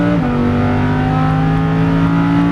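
A Lamborghini Huracan LP610-4 engine pulls hard after an upshift, its loud, steady droning note dropping in pitch at the shift and then holding a strong, even roar close by.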